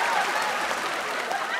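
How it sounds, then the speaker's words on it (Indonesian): A studio audience on a Malay variety show applauds steadily, a dense even wash of clapping with some crowd noise throughout. "Berikanlah tepukan Uncle Awesome Man!"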